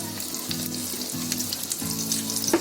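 Spinach (palak) cutlets sizzling as they are slipped into hot oil in a pan over low flame, a steady crackling fry with bursts of louder spatter, no talk.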